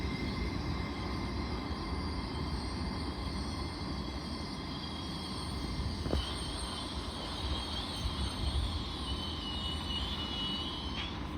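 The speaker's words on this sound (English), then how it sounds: "here's 801 209, working a service from London King's Cross to Edinburgh Waverley." A Class 801 train passing through Peterborough station on a King's Cross to Edinburgh service, producing a steady rumbling roll with a high whine and faint wheel squeal, heard from the platform at moderate distance.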